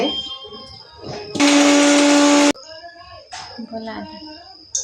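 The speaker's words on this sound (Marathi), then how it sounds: "आता मी मसाला वाटून घेते" A kitchen blender whirs loudly for about a second, grinding a spice paste of ginger, garlic, roasted onion and coconut, starting and stopping abruptly between stretches of someone speaking.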